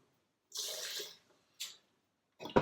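Water poured over fruit and nuts, dates and cashews, in a blender jar, coming as a sustained splashing pour of about three-quarters of a second, then a brief second splash, then a short louder burst at the end.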